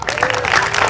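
Congregation applauding at a church revival meeting, a very brief burst of clapping and crowd noise, loud and close, with a voice mixed in.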